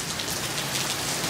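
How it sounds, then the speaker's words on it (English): Heavy rain pours down hard, a dense steady hiss of drops pattering on surfaces with no breaks, fairly close and even throughout. "It is raining so hard,"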